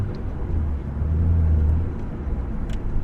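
A 1999 Nissan Skyline R34 GT-R V-Spec N1 drives along, heard as a low, steady engine rumble from inside the car that swells for a moment, then settles; no talking.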